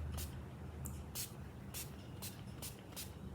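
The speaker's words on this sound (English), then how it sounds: "And just stand back a little, just mist it on" Sealant mists from a spray can onto a painted hat in short, airy hisses, about seven quick bursts at an irregular pace over faint background noise.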